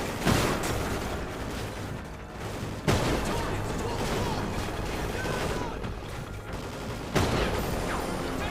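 Gunfire in the Call of Duty: Ghosts video game, with several loud, sharp shots at irregular intervals over a continuous din of distant battle noise.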